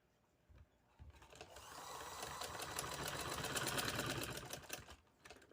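A sewing machine runs steadily, stitching a fabric strip onto a neckline, its rapid needle clatter building after a brief start and holding close and loud before stopping near the end, with no talk.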